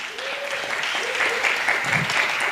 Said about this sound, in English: A final round of applause for her.